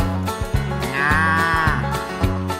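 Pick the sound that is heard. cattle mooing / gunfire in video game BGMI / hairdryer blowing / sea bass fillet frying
cattle mooing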